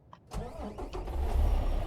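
An International truck's diesel engine starts up in American Truck Simulator: a brief starter crank, then the engine catches and settles into a rising, rumbling idle, close and alone.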